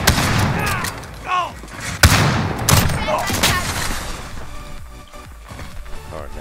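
Video game combat with gunfire and a grenade blast: a sudden loud explosion amid scattered shots, while a voice talks over the action.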